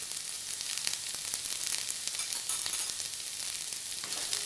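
Ridge gourd peel fries in a pan with turmeric, salt and a little sugar, giving an even, close hiss of sizzling oil with faint stirring taps underneath.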